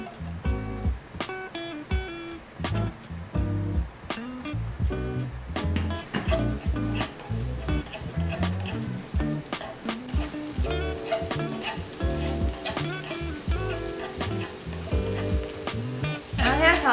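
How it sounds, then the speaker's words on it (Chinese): Ginger, preserved radish and chili crackle and hiss in hot oil in a wok, a loud, continuous sizzle broken by repeated scrapes and clanks of the spatula as the wok is stirred. "我们先把老姜、菜脯跟辣椒把它爆香。"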